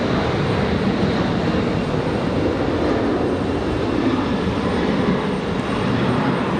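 A United Airlines Boeing 737 jet airliner at Raleigh-Durham airport gives a steady, loud, broadband engine roar that holds evenly throughout with no speech.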